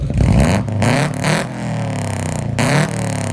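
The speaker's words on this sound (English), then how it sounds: "Now let's go to a Civic that has unequal length headers." A Honda Civic four-cylinder engine fitted with unequal-length headers revs with a lumpy, uneven burble, rising and falling several times in loud, close bursts with a rough, throbbing character.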